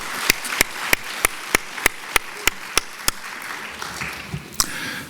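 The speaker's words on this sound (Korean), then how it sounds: "다시 한번 축복하며 우리 박수 쳐주면 좋겠습니다" A church congregation at a Sunday service claps together in a steady, even rhythm: about a dozen crisp, evenly spaced claps up close, with faint room noise between them.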